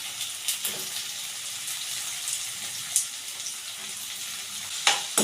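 Chopped banana flower is stir-fried with onions in a pan, producing a steady soft sizzle with occasional scraping clacks of the stirring spoon, close and moderately loud.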